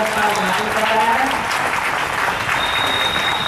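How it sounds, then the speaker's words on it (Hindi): Audience applause at a National Voter Day inauguration ceremony in Ghazipur, a dense, loud, sustained round of clapping from a large crowd, continuous throughout with a voice faintly present underneath. "एक बार जोरदार ताली"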